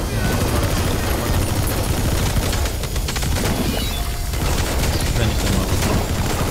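Sustained, dense gunfire from Metal Gear Solid 5: The Phantom Pain fills the whole stretch at steady loudness, with someone talking over the shooting.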